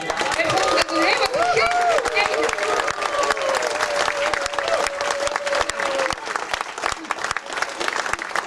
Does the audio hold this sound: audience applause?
yes